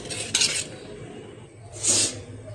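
A pressure cooker holding coconut pongal being opened, two short bursts of metallic clatter and hiss close by, with quieter rustling between them.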